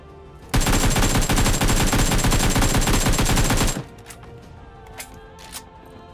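Rapid automatic gunfire from PUBG Mobile, a loud continuous burst of about three seconds that cuts off abruptly, followed by a quiet background with a couple of faint distant shots.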